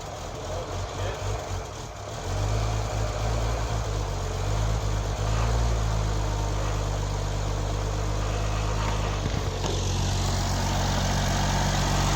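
A 1929 Chevrolet farm truck's Stovebolt six-cylinder engine idles after years unused, a low, steady rumble that settles in after a couple of seconds of rougher sound and continues to the end.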